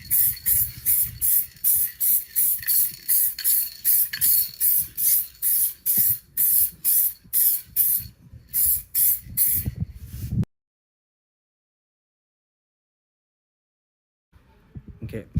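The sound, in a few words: spray can applying paint coat to car bumper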